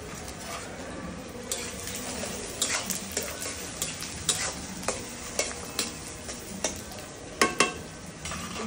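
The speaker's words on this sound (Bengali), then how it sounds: "পেঁয়াজ তো মাংসটা তো অনেকটাই আছে, পেঁয়াজটা পুরোটা দিয়ে দেয়।" Onion added to beef with fenugreek frying on a wood-fired clay stove, a soft steady sizzle under repeated clinks and scrapes of a stirring utensil against the pot, quiet and close, with no talk.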